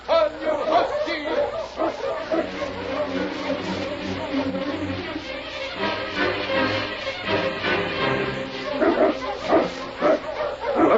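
Husky sled dogs led by one called King bark, yip and whimper through a radio drama scene set in the Yukon, a steady busy chorus mixed under excited voices shouting commands.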